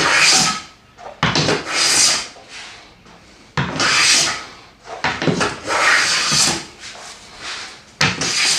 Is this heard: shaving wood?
yes